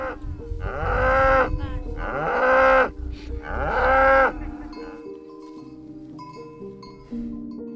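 Cattle on a beef farm give three long, loud, close moos in quick succession, each lasting about a second. Quieter ringing metallic tones, like a cowbell, follow in the calmer second half.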